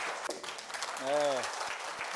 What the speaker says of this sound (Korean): 큰 박수로 환영해 주시기 부탁드리겠습니다